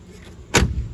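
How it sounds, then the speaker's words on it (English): A car door on an old project car shuts with a single solid slam, a sharp loud thud after a quiet moment, followed by a short low rumble as it settles. "Again, door closes pretty good."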